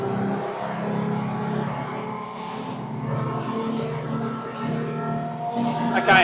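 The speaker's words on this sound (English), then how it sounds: "There's that engine noise." A Quarken 35 Sport Tourer boat runs its outboard flat out, giving a steady, loud engine drone with rising tonal whine and bursts of water spray, heard from on board with wind noise throughout.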